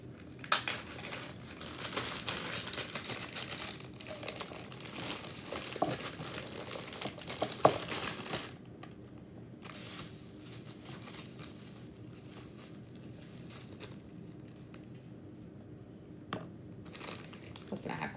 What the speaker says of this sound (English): put a hole in a plastic bag